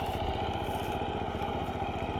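A rice reaper harvesting a rice paddy drones with a steady, rapidly pulsing small engine and mechanical clatter, loud and continuous throughout with no speech.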